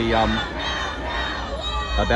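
A large crowd of protesters at a nationwide student strike for Palestine shouts and chants loudly and continuously, a dense roar of many voices with bursts of yelling rising at the start and end.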